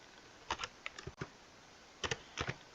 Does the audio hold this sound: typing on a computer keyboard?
yes